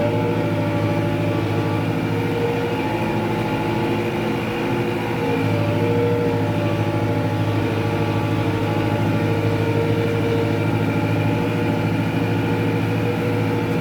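A tractor pulls a spring plough through a field left unploughed for 15 years, its engine droning as a steady, loud hum with sustained mechanical tones from start to finish and no talking.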